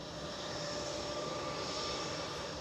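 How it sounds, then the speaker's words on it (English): A Cessna Citation 680 Sovereign business jet arrives at Edinburgh airport, and its engine makes a steady, fairly faint whining roar at a distance, with no talking. "So we've got a Smart Wings Bizjet inbound, a Cessna Citation 680"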